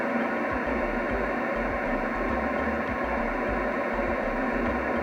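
An amateur radio receiver tuned to an empty frequency hisses with steady broadband static, loud and unbroken, with a faint rhythmic low pulsing underneath.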